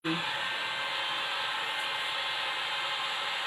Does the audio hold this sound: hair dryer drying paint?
yes